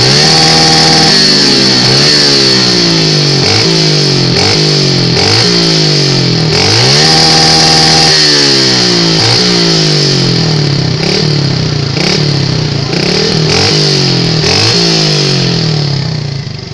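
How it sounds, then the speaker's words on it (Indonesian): A Suzuki Satria motorcycle engine revs hard and loud at close range. The throttle is blipped over and over in a quick rhythm, with the pitch swooping up and falling back many times over about seventeen seconds. No one speaks. "Ya, kita coba dengarkan geberannya."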